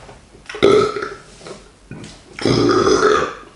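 Two loud, drawn-out burps after drinking Blue Moon Belgian White wheat beer with Cajun chicken, the second longer and more sustained, with a brief quiet gap between them.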